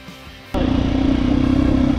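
Motorcycle riding through a village, its engine note loud and steady after a quieter opening half second, droning on without pause right up close.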